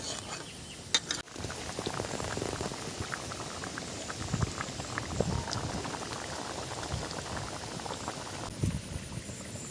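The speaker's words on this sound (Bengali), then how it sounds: "ঝোল ফুটছে, ঝোলের মধ্যে একটা অসাধারণ ফ্লেভার আসে এই কুলেখাড়া দিলে।" Crab curry broth flavoured with kulekhara greens bubbles steadily in a pot, a close, continuous boiling with dense popping and gurgling throughout and no voices.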